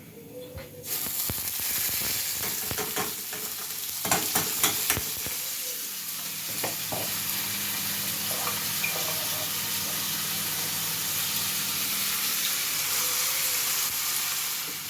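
Orzo pasta sizzles steadily in hot oil for a pilaf, with scraping stirs and sharp clinks of a utensil against the pot in the first few seconds, then a continuous close frying hiss.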